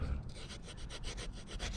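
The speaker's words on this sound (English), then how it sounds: "So keep sanding the toe here until I get all this nice shiny stuff off." Steady rhythmic sanding of a boot toe, a dry rasping scrub repeated in quick back-and-forth strokes, close up with no voices.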